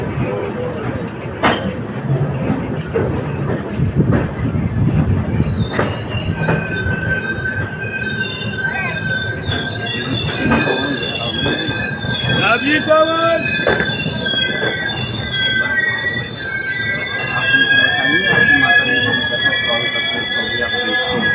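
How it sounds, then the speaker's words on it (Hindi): A diesel-hauled Amritsar–Jaynagar Humsafar Express pulls into platform 1 at Chhapra Junction, its wheels squealing loudly and continuously over rumbling, clattering carriages, with someone speaking at the start. "Arriving Chhapra junction. On platform number 1।"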